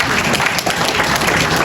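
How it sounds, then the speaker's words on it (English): Dense audience applause at a party press conference fills the room, a steady loud wash of many hands clapping without a break. "Give her a round of applause."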